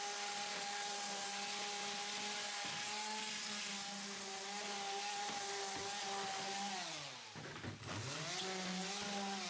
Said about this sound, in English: Sand all the bases too.